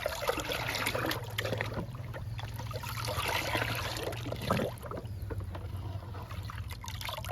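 Paste being mixed into water to make a green liquid feed for flowering plants, heard as a steady close trickling, sloshing water sound that runs throughout with soft low rumble beneath.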